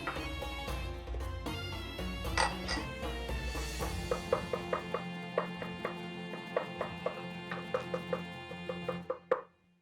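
A knife chops a handful of mint leaves and tarragon on a board, with quick, crisp taps that grow into a steady rhythmic run of sharp cuts, close and distinct, with no voices.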